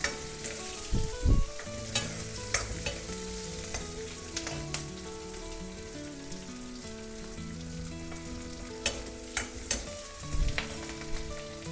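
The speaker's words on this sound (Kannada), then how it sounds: "ಸೊ ಈರುಳ್ಳಿ ಅರ್ಧಂಬರ್ಧ ಫ್ರೈ ಆದಾಗ ಈ ಥರ" Onions, ginger, garlic and green chillies fry in hot oil with a steady, soft sizzle. Occasional clinks and stirring scrapes punctuate it, and no one talks.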